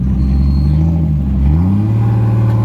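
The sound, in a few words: Toyota Mark II JZX90 drift car driven in with broken rear wheel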